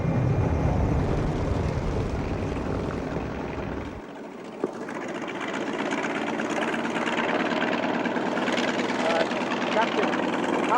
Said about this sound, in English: There are 30 Miao pilots flying T-28 bombers over a territory which was once their homeland.